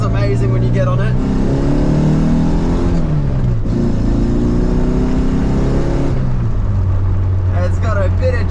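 A 40-year-old car with cut springs accelerates hard, its engine note climbing in loud, steady revving pitch sweeps that drop and rise again as it pulls.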